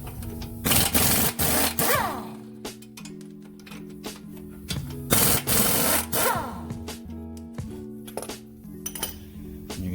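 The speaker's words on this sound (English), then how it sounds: "Now I'm going to use the impact, but you can use the regular ratchet if you don't have access to an impact." Rapid bursts of an impact wrench loosening strut bolts on a 2012 Nissan Sentra, several loud rattling hammering runs separated by short pauses, close up with metallic clinks between them.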